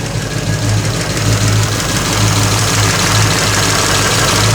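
A 1934 Ford coupe engine fitted with reproduction Holley 94 carburettors idles steadily with a throbbing, slightly lumpy beat, loud and close throughout with no voices.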